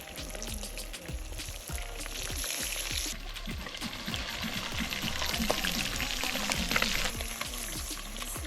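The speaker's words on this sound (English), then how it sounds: "Fry the fish for 5 minutes on each side until medium golden brown in color." Fish fries in very hot oil in a pot for Jamaican escovitch, a faint steady crackle and sputter with scattered pops and a dull low rumble underneath, fairly distant.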